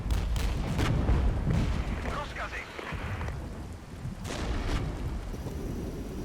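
Artillery shell curtain barrage in Regiments, a Cold War-style strategy game, with distant thudding impacts and rumbling blasts rolling under steady battle noise and faint voices.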